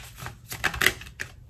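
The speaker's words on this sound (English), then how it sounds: "one more shuffle" Tarot cards are shuffled in a few quick, soft riffling bursts close by, with brief papery flicks and pauses between them and no talking.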